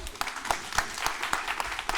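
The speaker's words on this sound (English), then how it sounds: "Give her a big round of applause." An audience applauds at a coaching workshop demonstration, a brief burst of moderate clapping with distinct sharp claps standing out, no one speaking over it.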